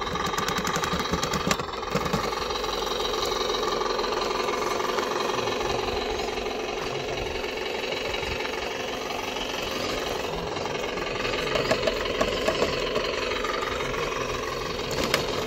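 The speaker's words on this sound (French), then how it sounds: "on voit que les chenilles frottent quand même un peu sur la carrosserie" A small RC tracked crawler runs continuously with a buzzing, rattling electric drone, its tracks rubbing against the body shell, close and steady with occasional sharper clicks and knocks.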